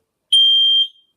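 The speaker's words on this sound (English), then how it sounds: "I have a Nest Protect, and that's a smoke alarm that mounts to the ceiling" A Nest Protect ceiling-mounted smoke alarm gives a single loud, piercing electronic beep lasting about half a second, close and clear with nothing else around it.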